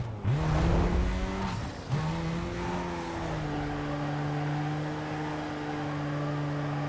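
A Mazda RX-7 drifts around a city courthouse track in Need for Speed: Carbon, its engine revving hard before settling into a sustained, steady whine mixed with continuous tire squeal as the car slides.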